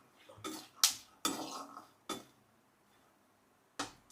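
Peanuts are roasted and stirred in a pan, giving quiet, intermittent metallic scrapes and clinks of a spoon against the pan, five short bursts separated by near silence.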